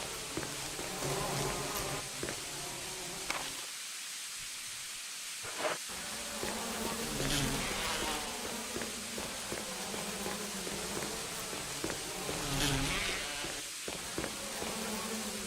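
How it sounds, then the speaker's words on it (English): Bees in the Resident Evil HD video game, a steady insect buzz with hissy texture that swells and fades over several seconds, with brief gaps and game sounds. "Ah, bees!"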